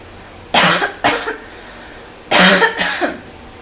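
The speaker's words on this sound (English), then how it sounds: "I'm going to cough into my elbow" Two pairs of muffled coughs into an elbow, close and fairly loud, separated by a short pause, with quiet in between.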